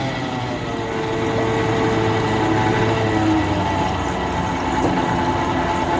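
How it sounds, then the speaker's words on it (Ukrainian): MTZ tractor engine running with a knocking bearing on a shaft, a loud, steady close-up drone with a constant mechanical rumble and no talk. "Стукає подшипник."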